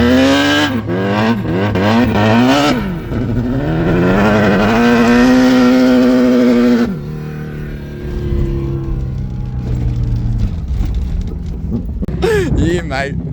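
A Hayabusa-engined Toyota Corolla and a Honda Civic drag racing, engines loud and close, revving in rising sweeps, then dropping away before climbing again, with people talking over them.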